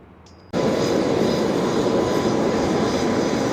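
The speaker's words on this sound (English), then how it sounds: "You see one has just landed a private jet." A private jet landing at Blackpool airport bursts in after a brief hush as a loud, steady engine roar that holds at full strength to the end.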